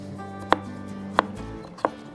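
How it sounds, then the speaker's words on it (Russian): Three sharp knife chops through potatoes on a cutting board, evenly spaced and fairly close, with quiet room background between them. "Нарежем картофель."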